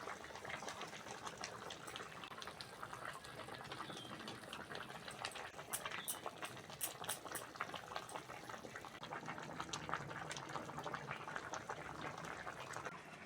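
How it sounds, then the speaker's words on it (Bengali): A pot of cabbage and egg curry broth boils with steady, even bubbling and gentle popping, quiet and continuous for the whole stretch, with no one speaking. "ঝোল ভালোভাবে ফুটে গেছে ভেজে রাখা ডিমগুলো দিয়ে দেবো"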